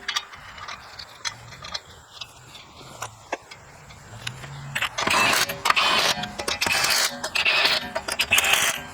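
Hand tools clink faintly at first, then a ratchet rattles in close, rapid bursts while tightening rear wheel lug nuts on a 2004-2013 Mazda 3 in a garage.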